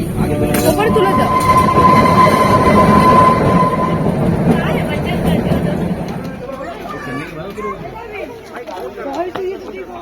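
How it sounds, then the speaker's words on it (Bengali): The Shivalik Deluxe Express toy train on the Kalka–Shimla line rumbles along in a loud, steady rolling roar with metallic rattle and a brief whistle-like tone. Passengers chatter throughout, and the noise eases toward the end. "আজ আমরা চলেছি টয় ট্রেনে চেপে হিমালয়ের পাদদেশ"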